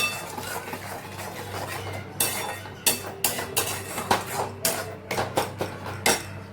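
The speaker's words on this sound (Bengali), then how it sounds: "এবং পুরো মিশ্রণটা কষাবো" A metal utensil stirs and sautés a whole curry mixture in a pan, with fried onion paste added, on a home stove. Repeated sharp clanks and scrapes sound close over a low steady sizzle, with no voices.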